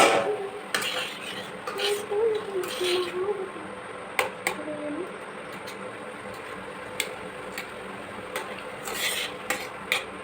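Pots and utensils clatter and scrape in a home kitchen while boiled potatoes are taken off the heat, with sharp metallic knocks scattered across the stretch over a steady low background hum.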